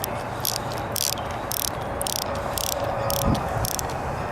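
Ratchet with a 1/2 inch socket tightening bolts during reassembly of a 1976 Mercury inline six 1150 outboard: close, steady clicking bursts repeat in a regular rhythm about twice a second.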